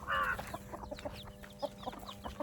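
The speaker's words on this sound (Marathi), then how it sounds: "कोंबड्यांना आता मोकळं सोडायचा टाईम झाला" Several chickens cluck softly and intermittently nearby, with short scattered calls over a quiet farmyard background.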